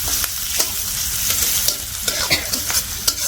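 Onion frying and being stirred in a pan for chicken bhuna khichuri in a village kitchen, a steady close sizzle broken by repeated scraping stir strokes, with no talk.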